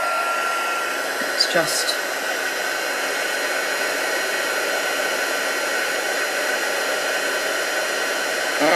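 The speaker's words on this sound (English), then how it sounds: "my heat tool, which I will heat up under my desk" A heat tool for heat embossing runs with a steady, close blowing hiss throughout, while a person speaks briefly near the start over the whoosh.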